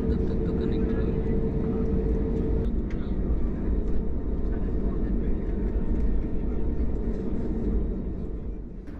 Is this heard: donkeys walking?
no